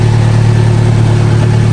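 Turbocharged Acura RSX DC5 engine, close and loud, holding a steady idle with a deep low hum and faint high whine throughout, no talking.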